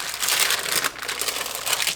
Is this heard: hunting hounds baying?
no